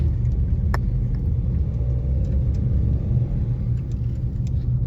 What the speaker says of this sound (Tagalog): Ramdam mo yung medyo may ingay yung engine niya kumpara sa mga nakagasolina na sasakyan.